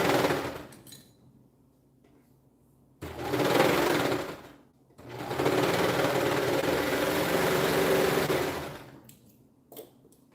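A serger sewing machine stitches in two close, loud bursts of rapid whirring, one short and one longer, separated by quiet pauses with faint background hum.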